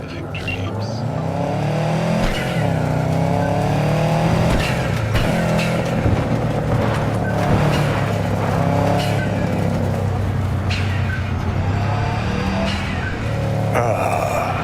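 A car drives in Cyberpunk 2077 with a loud, continuous engine roar that rises and falls over about fifteen seconds. Voices sound faintly underneath, and there are occasional sharp knocks.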